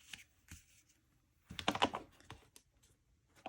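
Stiff paper greeting cards with foil accents are shuffled and gathered into a stack, a few soft flicks followed by a louder burst of rustling and riffling, then scattered light taps, close and quiet.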